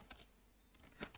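A computer keyboard is typed on in a few quiet, sparse keystrokes, soft sharp clicks spaced irregularly with no voices over them.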